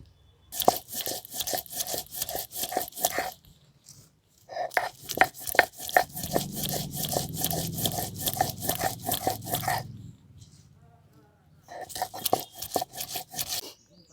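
Garlic with fresh green and dried red chillies is ground by hand into a spicy paste, heard as rapid rhythmic crunching and scraping strokes, close and fairly loud, in three bursts separated by short pauses.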